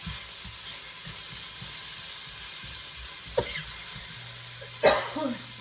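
Garlic and vegetables fry steadily in a pan with a soft continuous sizzle, their moisture cooked out, broken by a couple of brief clinks or stirring knocks near the end.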